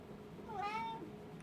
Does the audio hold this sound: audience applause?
no